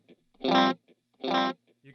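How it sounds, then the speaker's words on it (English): Electric guitar played through a tape-style drive pedal pushed harder for more distortion and saturation: two sustained distorted chords ringing out, with short muted picking between them, played alone and close. "can hear there's a little bit more distortion and hair on the tape."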